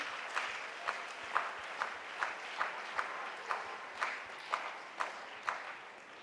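Church congregation applauding in steady rhythmic unison, about a dozen even claps spaced roughly half a second apart, moderately distant in a reverberant hall.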